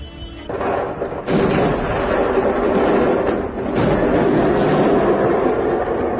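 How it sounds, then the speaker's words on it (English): A massive explosion at a fireworks factory in Malta roars as a loud, sustained rumbling blast, with sharp surges of crackling detonations building into a dense, continuous boom. "A massive explosion unexpectedly occurred at a fireworks factory in Malta, creating a huge column of smoke"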